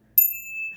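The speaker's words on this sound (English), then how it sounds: "I'm ringing the bell." A single bell struck once, ringing out clear and bright with a sharp onset and a long, sustained metallic tone that slowly fades, heard alone in a quiet room during an energy-clearing ritual.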